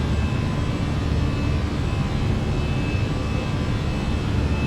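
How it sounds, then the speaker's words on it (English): Airbus A319 jet engines heard from the cockpit of the Fenix model in Microsoft Flight Simulator on a Lufthansa flight, a steady loud broadband roar with a faint high whine, constant throughout with no talk. "When I turn my head like this, I can hear that the engines are coming from this direction."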